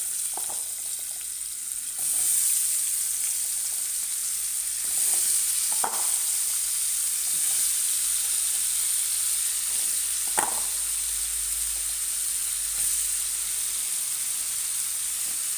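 Potatoes for corned beef hash frying in a pan, a steady soft sizzle and hiss with a couple of brief clicks of stirring.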